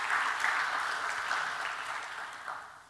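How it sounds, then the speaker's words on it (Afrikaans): A church congregation at a Christmas carol service claps hands together, a dense, steady burst of applause that slowly fades toward the end. "Karel, kan ons vir jou hande klap"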